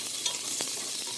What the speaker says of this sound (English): I love that sizzle because we're going to get the onions going